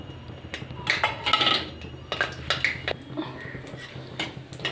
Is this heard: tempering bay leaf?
yes